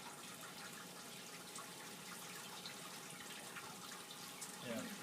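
Water being poured into a soil setup in a lab, a continuous soft splashing and trickling at a low, steady level, with a slight swell near the end.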